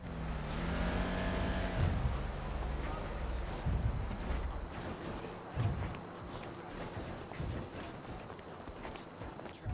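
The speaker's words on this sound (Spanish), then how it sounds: "Yo es que estoy escuchando un coche que me está volviendo la cabeza loca" A car engine runs nearby in a roleplay video game, a low humming drone at first, then settling into a steady rumble mixed with scattered thuds and movement noise.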